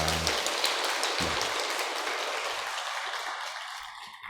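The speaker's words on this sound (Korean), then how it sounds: "그 마음 가지고 우리 박수로 격려하겠습니다." A church congregation at a Wednesday service claps in encouragement, a dense, soft wash of many hands clapping at once that fades gradually, with low organ or piano tones at the start and end.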